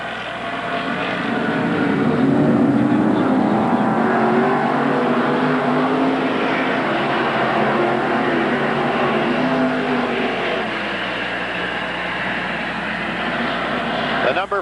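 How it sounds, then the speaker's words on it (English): Modified race cars racing at Merrittville Speedway in 1988, a continuous loud roar of many engines passing around the track with an announcer's voice over it. "We're under green and we're racing once again with Frank Plazik out in front"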